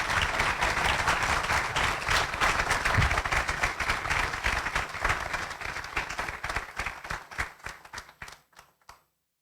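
An audience at a resilience culture alliance presentation event breaks into sustained applause, dense clapping that holds steady for several seconds, then thins into scattered individual claps and dies away to silence.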